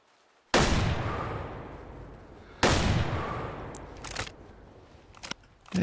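Two loud hunting rifle shots ring out in the Way of the Hunter video game at the Lintukoto Reserve, each a sharp crack with a long echoing decay, followed by a few faint clicks and a last sharp report.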